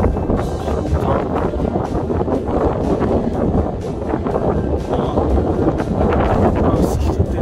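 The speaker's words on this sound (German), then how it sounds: "Sehr, sehr stark windig." Strong wind buffets the microphone with a constant heavy roar and rumble, gusting throughout without letup.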